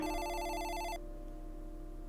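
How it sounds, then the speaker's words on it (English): A telephone in a visual novel video game rings with one shrill, warbling electronic burst lasting about a second, then cuts off, leaving a soft background music bed. "the phone gave a shrill ring"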